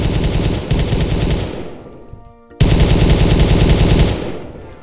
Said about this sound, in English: I'm gonna test out like the gunner from inside of the tank